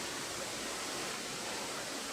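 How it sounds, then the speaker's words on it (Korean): A two-tiered waterfall at Palangso in Korea's Songgye valley pours into a deep pool below, a steady, dense rushing roar of falling water that stays close and unbroken throughout, with no voices. "특히 아래쪽에는 2단으로 물이 떨어지면서 깊은 웅덩이가 생겨났다."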